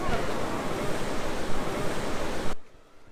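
Sea waves wash at Monterosso beach in the Cinque Terre, Italy, a loud, continuous surf roar that ends abruptly, leaving near quiet.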